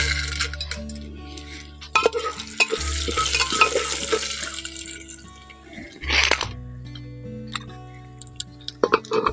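A handful of corn kernels is tipped into a hot pressure cooker for popcorn, giving a rattling clatter of kernels on metal, with stirring scrapes, sizzle and clinks close by.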